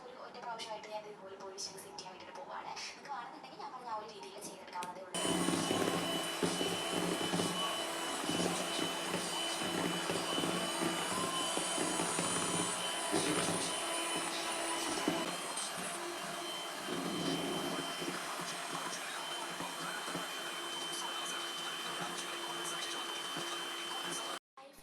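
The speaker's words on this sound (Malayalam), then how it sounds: "ഇനി ഇതിലേക്ക് തണുക്കാൻ മാറ്റിവെച്ച കസ്റ്റാർഡ് മിക്സ് ചേർത്ത് കൊടുത്ത് ഒന്നുകൂടി ബീറ്റ് ചെയ്തെടുക്കാം." An electric hand mixer whips cream together with chilled custard mix for homemade ice cream, a steady loud whirring motor that starts abruptly after a few seconds of quieter kitchen sound and runs continuously to the end.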